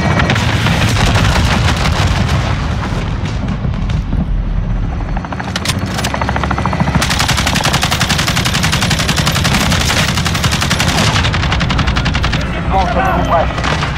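Call of Duty Modern Warfare 2019 in its drop-zone mode: loud, close rapid bursts of machine gun fire over a constant helicopter rotor drone, with other gunshots and a brief lull mid-way.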